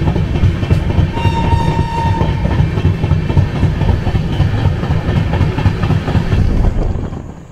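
The 12019 Howrah to Ranchi Shatabdi Express runs past Shaktigarh, its loud continuous rail roar and wheel clatter heard close up, with a brief horn tone near the start.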